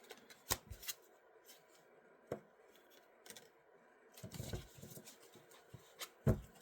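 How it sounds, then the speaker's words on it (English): Tarot cards being shuffled in a quiet room, giving a few separate soft riffling bursts and flicks spread out over several seconds, fairly faint and close, with no talking. "when I shuffle and something cool comes out"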